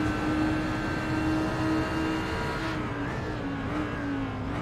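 A GT3 race car engine at Daytona drones at a steady high pitch, holding a sustained tone with a slight dip and rise in revs, running smoothly without misfiring.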